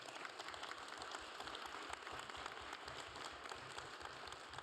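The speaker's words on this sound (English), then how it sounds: "A small applause for them," Audience at a smallsat and spectrum management conference session applauding the speakers, a steady dense patter of many hands clapping throughout, fairly loud and close.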